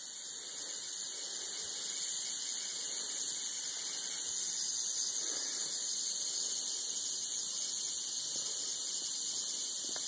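A large rattlesnake shakes its tail rattle in a continuous, high, hissing buzz that stays steady and fairly loud throughout, with no talking.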